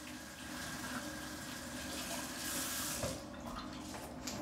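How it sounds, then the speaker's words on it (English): Tap water runs steadily into a bathroom sink while hands are washed, a continuous close hiss and splash with slight swells and no talking. "Just gotta wash up before the big feast."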